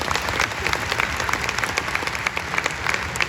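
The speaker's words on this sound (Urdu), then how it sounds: "تو ان کے لیے تالیاں بجانا چاہیے." An audience in a convention center hall applauds teachers, a sustained roar of many people clapping with crisp individual claps standing out, loud and continuous throughout.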